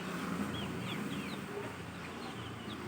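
Young chicks on a hen farm cheep in short high chirps scattered over a dense, noisy barnyard background, faint and somewhat distant.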